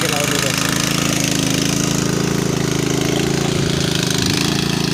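A tractor engine works a flooded rice paddy in Konkan during transplanting season, raising the field's earthen bunds. It gives a loud, steady, close droning rumble with a rapid mechanical pulse that runs unbroken throughout.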